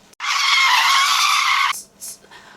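Someone vocally imitates a car's brakes squealing, producing a loud, sustained, high screech for about a second and a half, followed by a couple of short hissy bursts.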